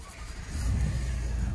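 A car drives steadily after a storm, with a low engine rumble and road noise holding at a moderate, even level throughout.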